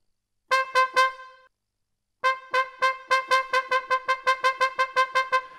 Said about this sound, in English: There is the attack tongue.